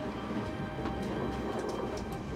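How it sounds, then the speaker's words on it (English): Passenger train pulling out of Athens, a steady broadband rumble of the carriages rolling on the rails with faint high rattles and squeaks throughout, no voices. "Train's just left Athens here"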